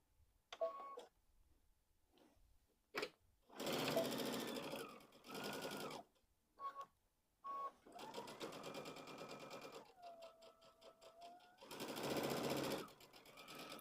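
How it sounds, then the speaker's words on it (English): Sewing machine stitching around the edge of a fabric pumpkin pillow, running in bursts of rapid close whirring separated by pauses, with soft clicks and brief tonal hums between runs. "Now we're going to go back to our machine and we are going to sew all the way around"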